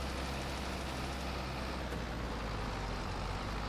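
A small tractor engine drones steadily while liming a small field on a farm in Farming Simulator 22, a constant low hum at modest volume with no talking.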